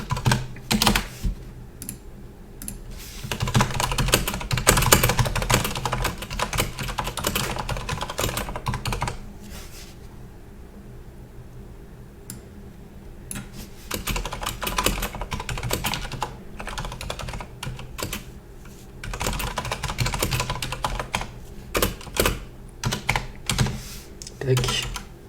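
Typing on a computer keyboard, close and steady clattering keystrokes in bursts over about 25 seconds, with a quieter pause midway and brief talk at times.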